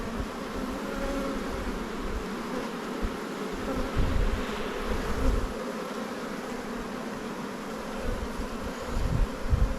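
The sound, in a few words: honey bees buzzing in opened hive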